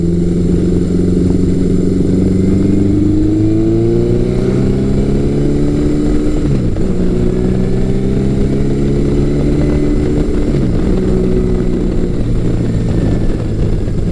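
A classic Yamaha superbike fitted with a 4-into-2 exhaust, ridden at speed. Its engine drones loudly and continuously, climbing in pitch through each gear and dipping briefly at the shifts.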